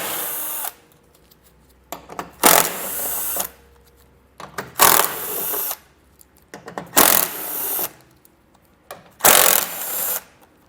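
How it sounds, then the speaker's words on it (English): A power tool spins out bumper fasteners through a 10mm socket on a 2022 Ford, five separate loud whirring bursts of about a second each, spaced by short quiet gaps. "we'll pull them out using a 10mm socket."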